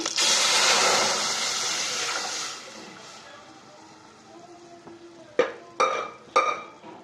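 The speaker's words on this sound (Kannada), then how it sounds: "ಎಣ್ಣೆ ಬಿಸಿ ಆದಮೇಲೆ ಸಾಸಿವೆ ಚಿಟ್ಪಟೆ ಆದಮೇಲೆ ಈಗ ಸಾಂಬಾರು ಹಾಕೋಣ" Sambar, a traditional Karnataka greens-based bassaru, hits hot oil with spluttering mustard seeds, giving a loud, bright sizzle that gradually dies down, followed by three sharp clinks of a utensil against the pot.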